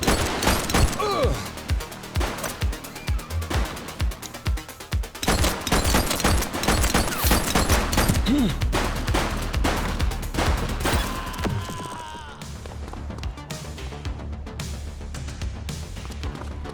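Rapid bursts of gunfire from a police shootout in the video game The Precinct, dense volleys and booming shots rattling for about twelve seconds before fading into quieter ambient rumble.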